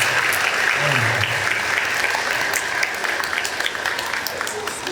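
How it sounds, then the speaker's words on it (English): An elementary school concert audience applauding, a dense, steady roar of many hands clapping that carries on throughout, with faint voices mixed in. "let's give a round of applause to all the people who supported making this program happen"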